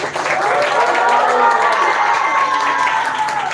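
A school audience at a children's literature festival applauds a young performer with sustained loud clapping and cheering throughout.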